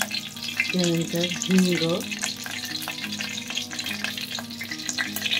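Curry leaves and spices sizzling in hot oil for black pea sambar, a steady crackling fry under someone speaking briefly.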